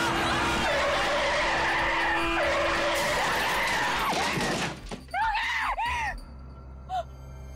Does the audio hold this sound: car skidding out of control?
yes